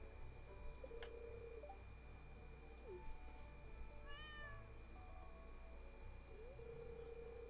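A pet cat in the Stardew Valley farming game gives a few short meows over a quiet bed of soft game music and ambient chimes, each cry distinct and near.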